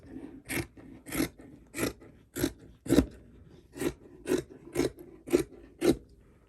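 Scissors snip through stretch fabric for a high bun scrub cap, about ten crisp close cuts in an even, unhurried rhythm with short gaps between each.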